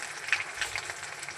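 Chicken pieces frying in a pan, giving off a soft, steady sizzle and crackle with a few brief sharper pops, heard close and fairly quiet with no talking.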